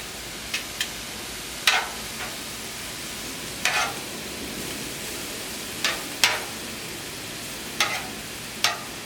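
Mushrooms frying on a griddle beside warming flatbread, a soft steady sizzle broken by short scraping stirs every second or two, quiet and close with no talking.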